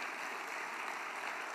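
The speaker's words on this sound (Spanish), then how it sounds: "el aplauso más fuerte para los que están siempre invisibles detrás" Sustained, dense applause from a large crowd at a Podemos political rally, steady and loud throughout with no pauses or voices standing out.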